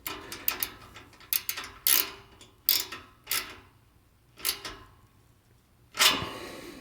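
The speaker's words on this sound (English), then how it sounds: "we're going to take our 8mm ratchet socket here, and we're going to tighten that down." An 8mm ratchet socket tightens down the mechanical valve of a car's active exhaust system, giving close, crisp bursts of ratcheting clicks in irregular groups separated by short pauses.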